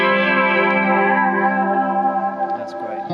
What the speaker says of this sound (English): The Leslie's DLS thing. Just does a convincing wobble.